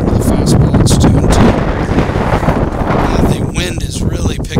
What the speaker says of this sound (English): The wind is really picking up, gusting hard here.